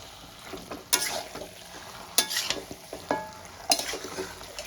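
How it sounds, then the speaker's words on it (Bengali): Chicken and potatoes sautéing in a pan give a low, steady sizzle, broken by a few sharp scraping stirs spaced a second or so apart. No one speaks. "এইভাবে করে আমি কষাতে থাকবো।"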